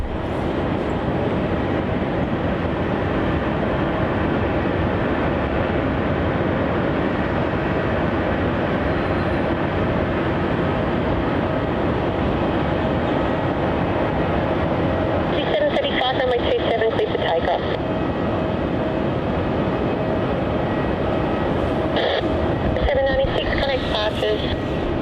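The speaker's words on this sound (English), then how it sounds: "that there departing was QF796, that retro 737-800 departing off to Alice Springs" A Qantas retro-livery Boeing 737-800 departs Melbourne Airport, a loud, steady broadband jet roar that fills the whole stretch, with some voice audible in places.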